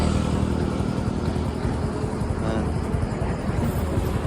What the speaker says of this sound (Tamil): ஒரு வண்டி போகிறது தெரில பாருங்க